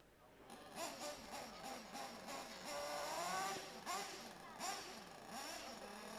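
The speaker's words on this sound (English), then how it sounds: "As we heard, there's nitro cars starting to get revved up." Nitro-powered 1/8 scale RC buggy engines revving at a world cup racing event, rising and falling in several whining bursts at moderate distance over steady crowd and track ambience.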